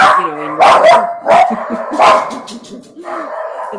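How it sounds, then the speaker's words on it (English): A dog barks in several loud, close bursts, with yips and a brief whimper between them, as someone walks past outdoors. "There's someone walking past with a dog."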